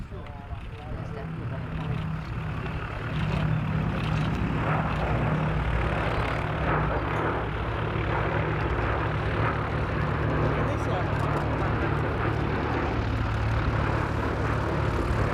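The Sally B, a vintage propeller aircraft, passes over the East Kirkby airshow with a loud, sustained engine drone that swells and holds. A commentator's voice is faintly heard under it.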